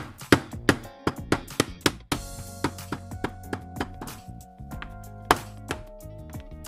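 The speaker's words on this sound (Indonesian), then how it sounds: "Ini dagingnya kita geprek." Dense, irregular thuds of a mallet or pestle pounding thin slices of raw beef flat on a board for Indonesian dendeng, close and sharp with short pauses between bursts.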